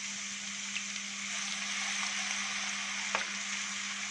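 Garlic fries in oil in a pan for moussaka sauce, a steady soft sizzle up close with a faint hum beneath and a brief clink of stirring near the end.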